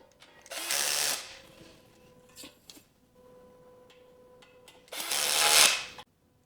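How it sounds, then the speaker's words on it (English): A power drill drives small M1 screws into a metal bed frame, with two loud whirring bursts, one early and one near the end, separated by quieter clicks and ratcheting handling noises. "put the M1 screws in, just one per side"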